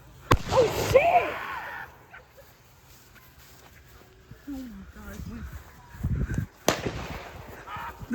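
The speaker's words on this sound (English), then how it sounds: "This nigga Antoine's by himself just lighting fireworks" Outdoor fireworks and firecrackers go off with sharp loud bangs near the start and again later, plus some fainter crackles, while people talk in between.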